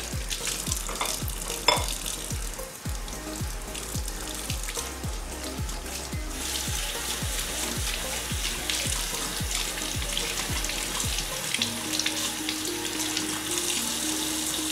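Tap water runs steadily into a sink while makeup brushes are washed, with soft rhythmic swishing and splashing close by throughout.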